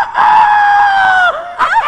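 A person imitates a rooster with a loud, close, drawn-out crowing call. It holds steady, dips, then breaks into a second rising whoop.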